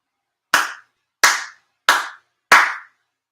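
Four sharp ritual hand claps at a Shinto monthly ceremony at a shrine in Chula Vista, evenly spaced and crisp, each ringing briefly in an otherwise silent room.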